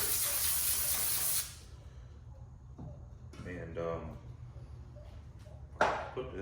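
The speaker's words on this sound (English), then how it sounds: "Now I'm going to take some brake cleaner on a rag here." Brake cleaner sprays onto a rag in one loud, steady hiss lasting over a second, with scraping and wiping sounds and brief talk following during work on an International Harvester 140 engine before fitting a head gasket.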